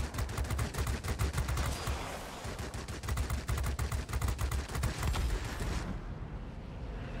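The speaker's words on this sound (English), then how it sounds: "you can just see how effective these cannons are" Rapid cannon bursts from a Tier X Russian Lavochkin La-15 fighter in World of Warplanes. Dense, loud machine-gun-like volleys repeat over a roaring engine drone, then cut off abruptly near the end.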